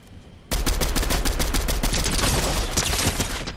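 Automatic gunfire in a shooting video game, a sudden, loud, sustained burst of rapid machine-gun shots that continues without a break for about three seconds.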